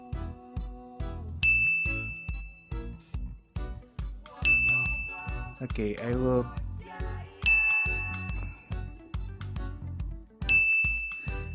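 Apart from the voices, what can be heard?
ding sound played through headset, picked up by microphone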